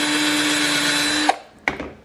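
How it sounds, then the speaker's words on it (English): A power drill whines steadily while boring lace holes through an Air Force 1 sneaker, stops abruptly, then gives a short second burst, loud and close with no talking. "flip it over and also drill on the inside as well"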